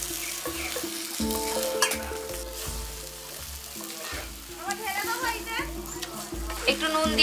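Marinated chicken is added to frying potatoes and spices in a pan for chicken curry, with steady sizzling and repeated stirring scrapes, close and under a voice talking.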